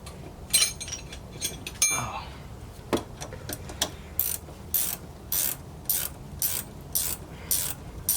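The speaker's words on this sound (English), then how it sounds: "Ratcheting, open end wrenches." A ratcheting open-end wrench works on a 2010 Dodge Avenger RT 3.5 L during intermediate shaft and CV axle replacement: scattered clicks and clanks first, then a steady rhythm of short, sharp ratcheting bursts, close and clear.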